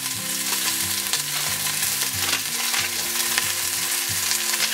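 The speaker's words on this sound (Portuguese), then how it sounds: "Eu gosto de fritar um pouquinho o alho poró, o gengibre e o alho para eles liberarem o aroma" Garlic, ginger and leek fry in a pan for a braised pork belly recipe, giving a continuous bright sizzle with stirring, close and loud, while low tonal background sounds run underneath.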